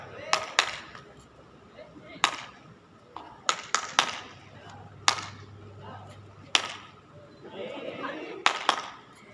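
Quicker sets of group hand claps in short sharp bursts, loud and fairly near, separated by brief pauses with low room noise and a few faint voices near the end.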